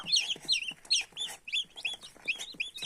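Many small chicks of Brahma Columbian, Black Copper Marans and Mechelen Cuckoo breeds peep continuously nearby, high and shrill, their rapid chirps overlapping in a busy, steady chorus.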